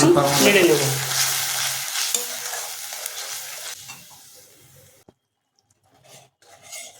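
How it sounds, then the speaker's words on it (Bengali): Ginger paste with tomato and green chilli sizzles loudly as it is sautéed in a pan for a paneer curry, with steady frying hiss and stirring that fade to near silence after about five seconds. "এই পেস্টটাকে আমরা মিনিট পাঁচেক ধরে কষিয়ে নেব"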